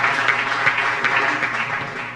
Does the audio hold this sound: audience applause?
yes